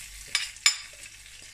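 Garlic sizzles steadily in butter in a hot pan while a spoon scrapes and stirs in a few sharp strokes.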